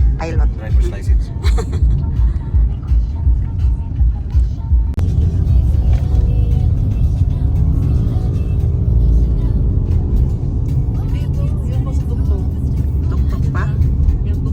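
Car driving in the Philippines on the way to the San Juanico Bridge in Leyte, a steady low road rumble and engine hum inside the vehicle, with people talking over it.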